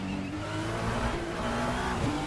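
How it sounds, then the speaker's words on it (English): In the Le Mans Ultimate video game, a race car's engine drones steadily and loudly under late braking, with tire squeal rising near the end. "I'm late on the brakes. I've missed my braking point."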